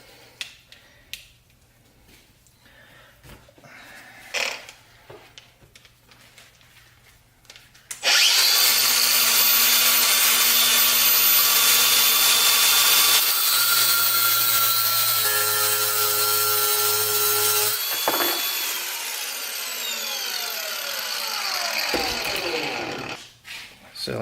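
A metal stud clamped in a vise is cut with a loud, steady power saw, a harsh whining grind that starts abruptly and runs for about ten seconds, then winds down, with quieter handling clatter before and after.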